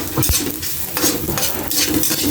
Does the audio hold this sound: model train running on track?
no